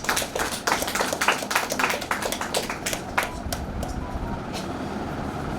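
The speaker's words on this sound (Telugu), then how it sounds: "మీరు క్లాప్ ఫర్ అవర్ సెల్స్." Audience clapping for the sales team at an office gathering, a dense patter of many hands in the first three seconds that thins out and fades toward the end.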